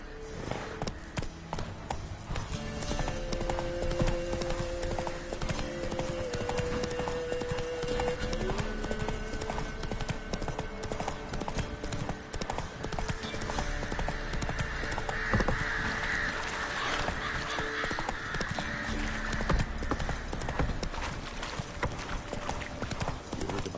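Horse hooves clip-clop steadily at a gallop in The Witcher 3: Wild Hunt, a continuous rhythmic patter over game ambience and music, fairly close and prominent throughout.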